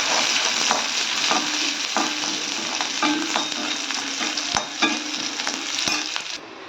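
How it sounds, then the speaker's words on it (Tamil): Small onions, curry leaves and crushed garlic sauté in hot oil with a bright, continuous sizzle, broken by repeated scraping clicks of a spoon stirring through the pan. "வெங்காயம் நல்லா வதங்கிடுச்சுங்க."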